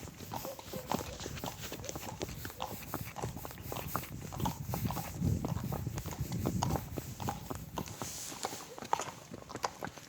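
Horses walk over hilly ground on a long ride of about 40 km, their hooves clip-clopping in a steady, overlapping rhythm at close range, with faint voices in the background.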